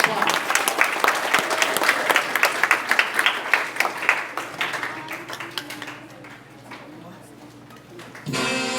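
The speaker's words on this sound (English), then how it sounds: "Give him a big round of applause." A school audience of elementary students at Rockwood applauds a reader, a loud burst of crowd clapping that tapers off toward the end before a voice starts talking.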